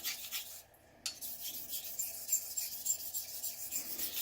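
A knife blade is honed on Wakasa and Naniwa sharpening stones, steady close gritty scraping strokes with a brief pause near the start, no voices.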